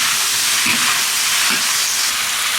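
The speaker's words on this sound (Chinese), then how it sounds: "把香肠、鱼豆腐还有豆皮倒进去，莲藕和土豆放进去，再次翻炒，把它炒香" Sausage, fish tofu, tofu skin, lotus root and potato stir-frying in a wok, giving a loud continuous sizzle with soft scraping stirs, close and alone.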